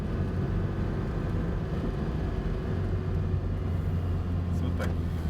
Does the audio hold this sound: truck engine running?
yes